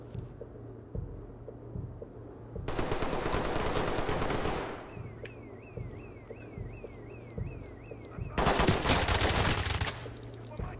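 Tactical shooter gunfire from Ready or Not erupts in two loud, dense bursts of rapid shots separated by quieter stretches of scattered pops and a warbling electronic tone.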